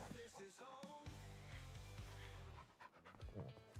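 A dog pants in Farming Simulator 25, with steady quick breaths running through the whole moment over layered game music and ambient sound.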